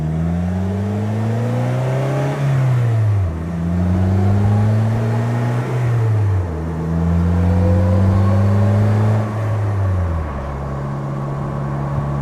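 A 2017 Polaris Slingshot accelerates hard, its engine note climbing steadily and then dropping at each upshift, repeating through several gears, loud and close with no talk.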